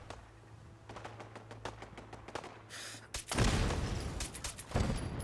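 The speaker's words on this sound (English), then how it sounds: "It's my gunfire. My defenses with no one inside the town." Defense turrets fire in Fallout 4, a rapid patter of shots that swells into heavy, loud bursts of gunfire and booms in the second half, with no talking.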